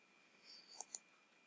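A computer mouse gives two quick, faint clicks in close succession against a quiet background.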